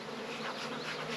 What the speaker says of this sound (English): There are more bees in that box than those two